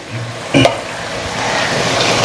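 A ground spice paste of ginger, cumin, green chilli, onion, garlic and pepper is stirred in a frying pan, with a brief utensil knock over a loud, continuous sizzle that builds slightly.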